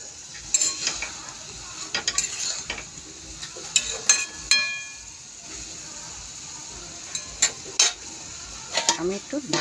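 Soybean chunks are stirred and fried in a pan, with intermittent scraping and clattering of a spatula over a soft background sizzle, close and uneven in rhythm.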